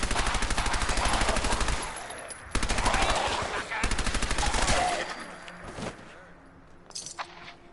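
Rapid automatic gunfire rattles through a video game in two long, loud bursts, then trails off into scattered quieter shots and clinks, with a voice faintly underneath.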